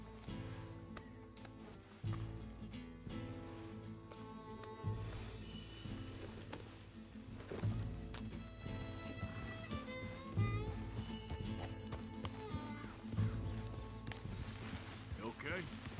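Horse hooves clip-clop steadily under continuous game music and character dialogue in Red Dead Redemption 2, a rhythmic muffled trot sitting low in the mix.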